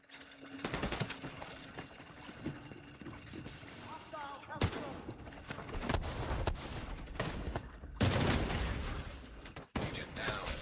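Rapid automatic gunfire in The Division 2 at DARPA Labs, sustained machine-gun bursts with sharp loud cracks and brief pauses, layered with game effects and a player's voice talking over it.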